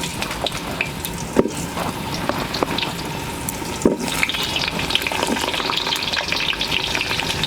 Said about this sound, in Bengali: ফোড়ন ভাজা হয়ে গেছে, এবার একে একে সবজিগুলো দিয়ে দেবো।